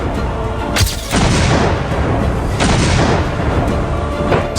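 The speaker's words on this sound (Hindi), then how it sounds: "अपनी तोपों से उसे दहला कर रख दिया" Heavy artillery shelling by the Indian army at the Line of Control: deep, rolling booms in two or three big blasts with long rumbling tails, loud and continuous, with no voices.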